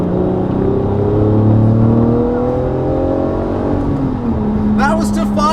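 A Lamborghini Murcielago's older-design V12 engine revs up to about 5,000 RPM, a loud, close, rising roar that holds and then settles back, with a voice starting to speak near the end.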